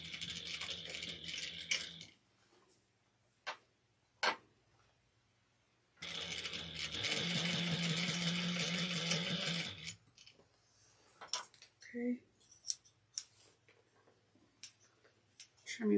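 A sewing machine stitching over bias binding, running in bursts: a steady buzzing stretch at the start and a longer one in the middle, with clicks, handling noises and quiet gaps between.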